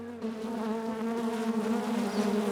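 Honeybees from an aggressive but productive open Flow beehive buzz in a steady, close, continuous drone with no pauses or voices.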